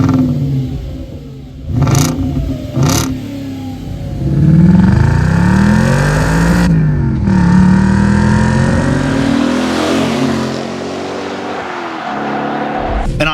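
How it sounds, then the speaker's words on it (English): An Audi B6 S4 with its V8 engine revving hard, a loud throaty rise and fall of engine note, with sharp blips early on, then sustained climbing revs and a settling idle. "a dirty V8 racket that sounds absolutely heavenly"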